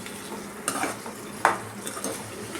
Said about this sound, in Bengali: ভালো করে নাড়াচাড়া করে নিলাম যাতে মশলাটা মিশে যায়